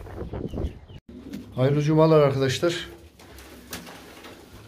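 Pigeons coo in a loft, with one clear, rolling coo standing out in the middle and softer bird sounds around it, while someone speaks briefly at the start.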